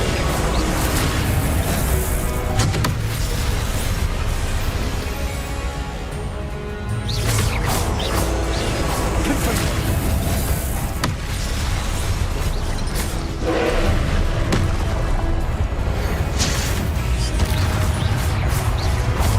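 Repeated Confringo blasting-spell explosions in the Hogwarts Legacy video game: a loud, continuous barrage of booms, crashes and crackling bursts during combat, with brief dips between impacts.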